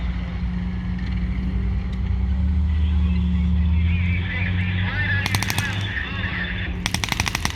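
A German machine gun fires at a late WW2 battle reenactment at Tankfest, two rapid, loud bursts cutting over a steady, heavy vehicle engine drone.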